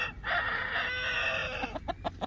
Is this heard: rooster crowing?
yes